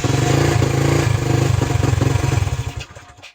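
A cold pit bike engine with choke applied, running with a rough, rapid pulsing idle close by, then faltering and dying out at the end.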